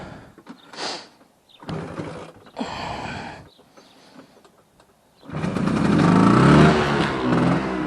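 A 1980 Vespa P200e 200cc two-stroke scooter being kickstarted: several short mechanical kick strokes and sputters with gaps between them, then the engine catches and runs loud and rough in the final few seconds.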